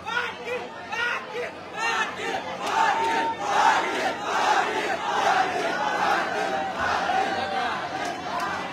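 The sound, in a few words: large crowd at a protest gathering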